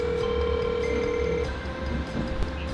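Telephone ringback tone while calling a friend, heard as a steady electronic tone that sounds alone for about a second and a half, then stops, leaving background noise.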